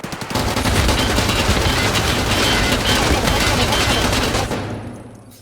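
Dense, continuous automatic gunfire rattles loudly at close range in the video game Escape from Tarkov, sustained for several seconds before cutting off abruptly.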